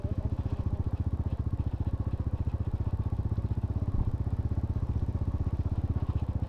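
A motorcycle rides over sand near the shore, its engine putting along with a steady, rapid low throb. The sound is continuous, close and even throughout, with no voices.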